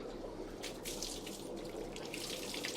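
Water, tipped from a container holding zebra plecos, pours into their new fish tank as a gentle continuous splashing trickle, quiet and close, with no voices.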